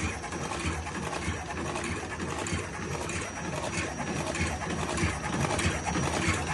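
An electric cardboard box wrapping machine runs continuously with a dense mechanical rattle and whir, a person speaking over it.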